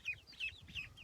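Young chickens clucking softly in quick repeated calls while scratching through ground grain poured on a farm, close and fairly quiet.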